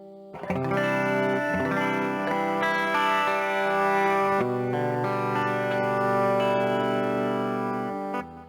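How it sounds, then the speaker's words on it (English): Electric guitar played through a chorus effect with a distorted tone, sustained chords ringing with a lush, wavering shimmer, loud and continuous with brief breaks between strums. "Chorus sounds really great. Sounds good on a distorted tone."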